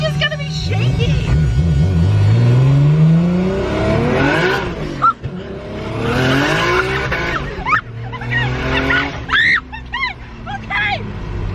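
A built Nissan Skyline with a turbo RB25 engine and no blow-off valve accelerates hard through the gears, pitch sweeping up then dropping at each shift, loud and close, with people talking and exclaiming over it.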